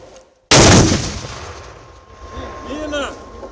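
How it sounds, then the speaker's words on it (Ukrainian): A single loud mortar shot fired at enemy positions booms close by in a war zone, then rumbles and fades, followed by faint ringing and distant mechanical tones. "працюють по ворожих позиціях із міномета"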